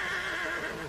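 A horse in Red Dead Redemption roleplay gives a single loud, close neigh, a sustained whinny lasting about a second with no talk over it.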